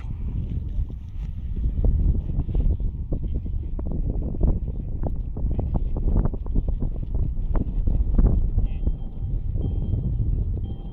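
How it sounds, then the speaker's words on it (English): Steady crosswind buffets the microphone at an F5J electric glider competition airfield in Trnava, Slovakia, a continuous low rumble with gusty swells and rustling bursts throughout, loud and close. "the wind is blowing almost at 90 degrees to the landing direction"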